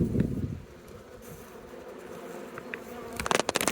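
Honeybees buzzing in a steady hum as they fly around, with some brief rustling and handling noise at the start and end.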